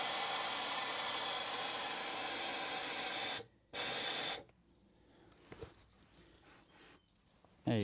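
Dinitrol rust protection sprays from an aerosol can into a Land Rover Defender TD5 bulkhead in a loud close hiss lasting a few seconds, breaks briefly, bursts again, then stops, leaving faint handling noises.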